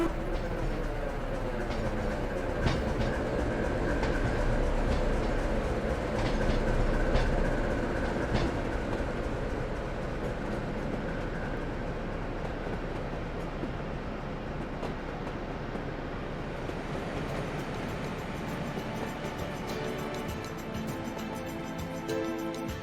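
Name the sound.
train 73106 departing Hopton in a train simulator game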